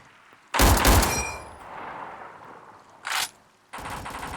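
Gunfire in a Roblox PVE shooter: a loud, dense burst of rapid shots up front, then a short separate burst and another volley at the end, all without talk.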